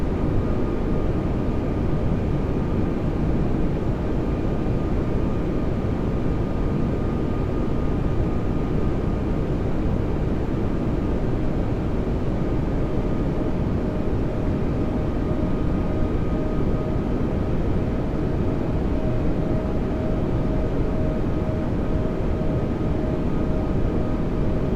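Steady loud airliner cabin or cockpit drone during a landing approach into Dubai, a continuous broadband roar with faint tonal hums, unchanging throughout.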